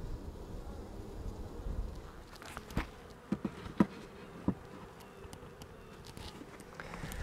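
Honey bees buzz softly and steadily around a beehive in an apiary, a faint continuous hum with a few brief louder passes close by and light outdoor background, no voices.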